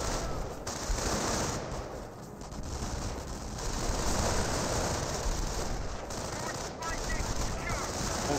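Machine-gun and rifle fire rattle in a Company of Heroes 1 battle involving Wehrmacht Volksgrenadiers, dense and continuous but somewhat distant, with a voice talking over it.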